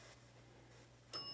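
A bell at the Clown Motel in Tonopah, Nevada gives one sharp bright ring late in the moment, after quiet room tone with a steady low hum.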